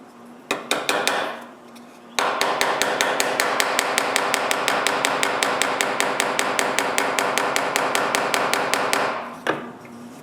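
Nails tapped with a hammer into glue-filled holes of a handmade wooden cryptex: a steady run of dozens of sharp, close, evenly spaced taps, preceded by a few scattered strikes and followed by a final knock, with no talking.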